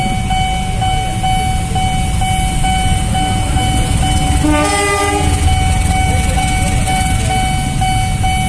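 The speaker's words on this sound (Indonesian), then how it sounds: "Kereta lagi kayaknya nih." A commuter train rumbles loudly and continuously close by at a level crossing in Kemayoran, with a steady high tone throughout and a brief horn blast in the middle.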